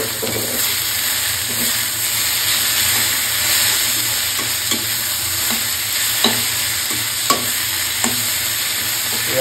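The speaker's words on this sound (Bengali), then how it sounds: "এখন আমি এগুলা লাল শাকগুলা দিয়ে দিতে পারবো" Boiled red amaranth greens fry in a pan with a loud, steady sizzle and hiss, broken by a few sharp clicks of stirring, with no one talking.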